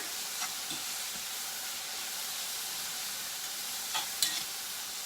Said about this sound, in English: And I'm going to give this one more quick stir.